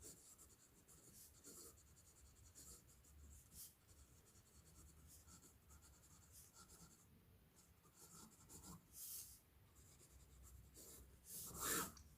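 A fountain pen nib writes on paper, giving a soft, continuous scratchy glide broken by brief pauses and a few sharper strokes near the end, faint and close with no talk.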